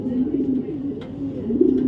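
A jet black male racing pigeon coos softly in low, rolling phrases, close and steady throughout the short stretch with faint handling noise.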